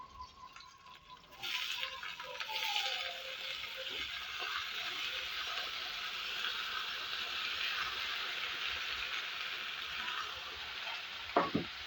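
Pumpkin pieces hit a hot oiled pan with a sudden burst of sizzling that settles into a steady, close frying hiss, with faint scraping as the vegetables are stirred; no one speaks.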